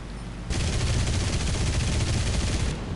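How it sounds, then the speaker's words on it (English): Anti-aircraft gunfire in the War Thunder game during a Hawker Hurricane dogfight, a loud continuous rattling burst that starts abruptly and holds steady for over two seconds before easing off. "Shoot, anti-aircraft gunners."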